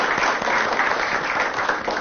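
Steady applause from a Turkish television studio audience, a dense even wash of clapping that holds at one level throughout without pause.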